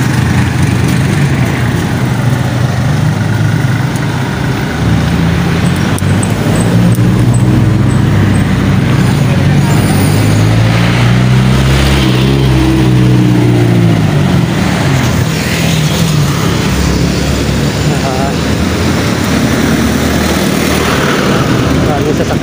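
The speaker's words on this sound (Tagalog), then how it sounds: "Maraming sasakyan." A steady stream of vehicles rolls along a narrow road, their engines and tires forming a loud, continuous roar with low rumbling swells as individual cars pass close by.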